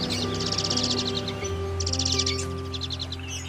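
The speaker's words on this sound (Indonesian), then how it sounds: "suara jalak suren yang bagus" An Asian pied starling sings in bright repeated bursts of chattering, whistled notes, fairly close and loud, with short pauses between phrases over a steady low hum.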